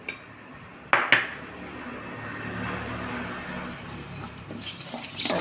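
Metal vessel clanks and scrapes as cleaned goat legs are tossed with turmeric powder and salt, a couple of sharp knocks followed by continuous rustling, rubbing and clinking, close and fairly loud.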